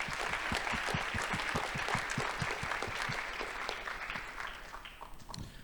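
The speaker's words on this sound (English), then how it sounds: "let's give a round of applause to them." A conference audience at a closing keynote breaks into a round of applause for the jury, dense clapping that starts strong and slowly tapers off, with no voices over it.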